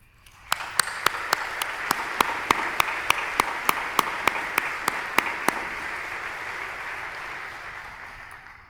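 An audience at a scientific society's presidential address gives a moderate round of applause for award recipients, with steady clapping spread over several seconds and a regular series of sharp clicks or pings during the first half.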